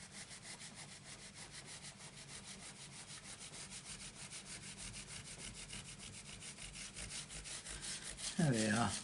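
Pencil line being rubbed out with an eraser on cardstock for a stamped snowman craft: steady, rhythmic scrubbing strokes held close and alone, with a brief sharper sound at the very end.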